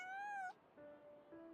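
A cartoonish cat meows in Genshin Impact during Lynette's hangout event, one long rising-and-falling meow followed by two softer, shorter mews, close and clear with no talking.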